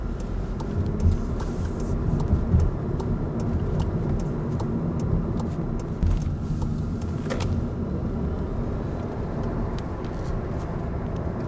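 A 2018 VW e-Golf electric car driving, its road and cabin rumble steady throughout, with a very faint motor whine barely rising above the low drone.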